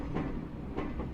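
A Class 506 electric train creeping along at about 10 mph in Train Simulator Classic, a low steady rumble with soft rhythmic clicks of wheels over rail joints, heard alone.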